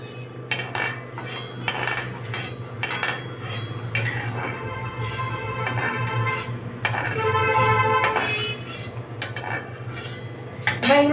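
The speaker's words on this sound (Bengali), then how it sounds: "এবার এগুলো আমি তুলে নিচ্ছি মিক্সিং বলে" Cooked ingredients for a vegetarian sesame-paste (til bata) dish scooped from a pan into a mixing bowl, with repeated metallic spoon scrapes and clinks against the bowl and cookware, steady and close over a low background hum.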